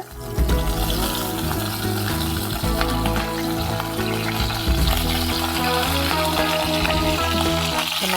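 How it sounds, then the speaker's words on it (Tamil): Brinjal pieces fry on a hot tawa over a low flame, with wet spluttering giving a continuous, fairly loud sizzle and crackle close by throughout, and no voices. "தண்ணி இருக்கிறனால தெரிக்கும் பார்த்து இருந்துக்கணும்"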